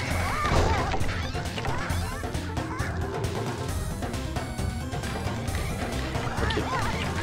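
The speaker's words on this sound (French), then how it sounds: "On prend du plaisir à décapiter des poules." Sly Cooper video game action as chickens are struck and decapitated: busy crashing hits and squawking fowl cries over game music and effects, loud throughout.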